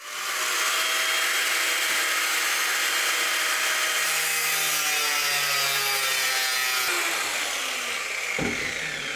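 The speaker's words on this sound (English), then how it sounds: "I really don't like to cut stainless steel, or actually any steel." Stainless steel plates being cut on a sailboat, a continuous harsh, high rasping and screeching grind that holds steady for several seconds before a brief drop near the end, loud and close with no talking.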